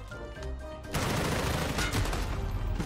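Odin assault rifle fire in Modern Warfare multiplayer: after a quieter second, a loud continuous burst of automatic gunfire rattles on without pause, dense and close.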